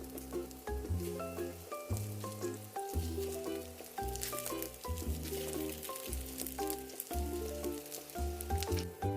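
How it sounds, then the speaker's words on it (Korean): Flour-free potato cheese hotteok fry in butter in a pan, giving a soft, steady sizzle beneath louder melodic background music. "중간중간 타지 않게 뒤집어 주면서 구워주세요"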